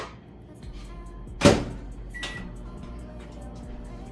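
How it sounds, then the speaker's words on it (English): A microwave oven heating cheese for a Philly cheesesteak closes with a sharp door clunk, followed by a short electronic beep and a low, steady hum nearby. "with this cheese, you could just heat it in the microwave"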